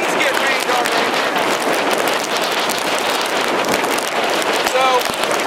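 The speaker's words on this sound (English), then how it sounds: "As you can see, the wind's pretty increased. It's rain coming in like that little sharp pins and needles thing." Strong wind from Hurricane Irene roars steadily on an island, buffeting the microphone, while rain drives in hard. The noise is loud and unbroken throughout.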